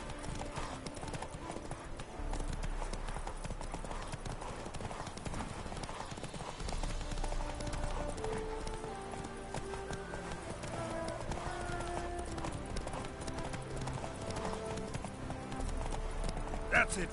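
Roach the horse gallops in The Witcher 3, rapid rhythmic hoofbeats clip-clopping steadily under a game soundtrack, with a brief voice speaking over it.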